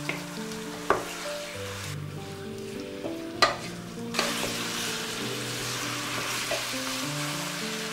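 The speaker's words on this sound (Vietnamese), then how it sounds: "xào đều lên cho thịt săn lại" Beef stir-fried in oil with garlic and lemongrass for Vietnamese braised beef, sizzling steadily close up, with a few sharp spatula scrapes and knocks against the pan and no talking.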